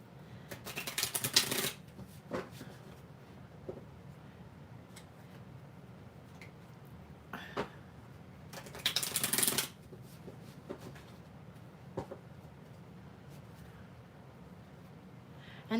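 Tarot cards are shuffled in a quiet room, with two distinct riffling bursts and a few soft taps and flicks between them.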